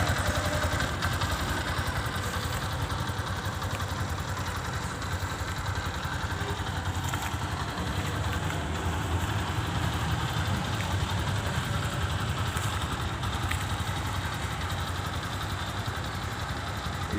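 Viar Karya 2019 200cc motor tricycle engine idling steadily and close by, a continuous low rumbling drone that holds at an even level throughout with no revving or talk.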